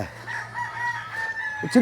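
A rooster kept for cockfighting in a Philippine village gives a loud, close, drawn-out crow, with a brief clucking note at the end.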